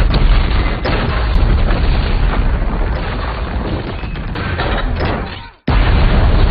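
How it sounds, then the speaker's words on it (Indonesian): A film explosion of an ambulance carrying a C5 bomb among police, a loud sustained roaring blast with rumbling debris that fades before a sudden cut back to heavy noise. "mobil ambulans yang membawa bom C5 meledak di tengah-tengah para polisi"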